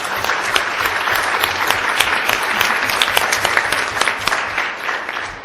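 Sustained audience applause at a summit tribal partner panel, dense clapping from a large room that holds steady for several seconds, loud and close.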